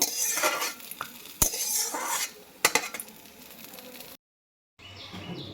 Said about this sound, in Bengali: ছোলার ডালটা ভেজে নিয়েছি এবার আমি একটা বাটির মধ্যে তুলে রাখছি